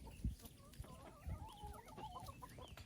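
Chickens clucking close by, soft, busy chatter of hens and chicks at fairly low volume, with overlapping short calls and no talking.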